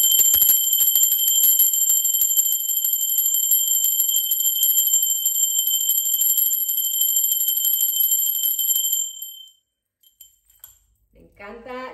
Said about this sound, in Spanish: Yo voy a tocar campana rápidamente